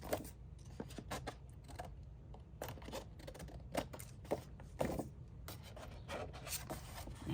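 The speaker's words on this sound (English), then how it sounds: "I'm going to flip it over, and I'm just going to cut these off" Scissors snipping paper pieces for a 12x12 scrapbook layout, with faint irregular cuts and rubbing over a low background hum, close but quiet and with no talking.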